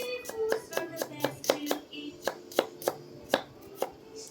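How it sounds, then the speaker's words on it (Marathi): A knife slices an onion on a cutting board, about fifteen crisp, close chops falling in a steady, unhurried rhythm. "त्याला असं पकडून या पकडूयात व्यवस्थित तीन बोटांमध्ये अलगद अलगद असे कट द्यायचे"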